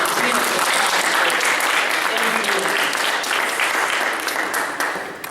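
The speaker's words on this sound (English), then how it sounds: "Give Anthony a round of applause." A crowd claps steadily in dense, continuous applause that holds strong before tapering off slightly at the end.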